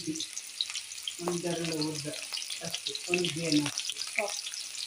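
Steady hissing sizzle of onion, ginger and chillies frying in oil in a pan, with a low muffled murmur rising and falling underneath.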